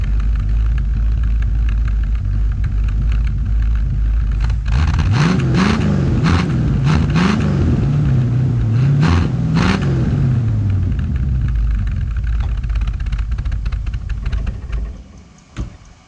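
A 1969 Mercury Cougar with dual exhaust runs loud and close, idling with a deep rumble, then revving and burbling through the pipes before settling back down. No voices are heard.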